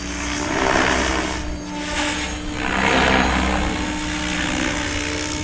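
An RC helicopter flying 3D aerobatic moves hums with a steady, loud rotor and motor whine, swelling and easing as it turns through different orientations, with no voices.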